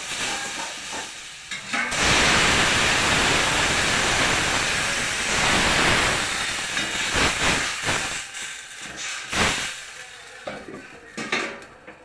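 Loud steady hiss and sizzle from a steel kadhai of methi aamba (fenugreek with raw mango) over a high gas flame after water is added, with a few clinks and stirring scrapes.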